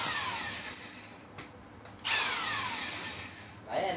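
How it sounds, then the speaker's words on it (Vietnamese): Cordless battery drill spinning up in short bursts, a high whining motor that drops off, pauses and restarts, loud and close, heard on its own with no talking. "Máy khoan pin."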